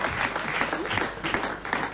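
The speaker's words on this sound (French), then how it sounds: "Allez, on vous applaudit, on vous embrasse" An audience applauds a newly married couple: a dense, steady wash of many hands clapping together, fairly loud and sustained for the whole stretch with no voices standing out.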